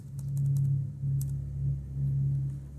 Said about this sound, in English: I often use my arrow keys on my keyboard to just kind of shuffle through